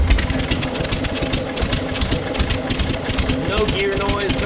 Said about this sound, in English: Up and you can hear the motor.